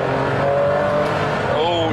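A Ferrari Enzo engine hums steadily during a test drive, its pitch dropping and shifting near the end as the gearbox changes gear, with someone talking over it throughout.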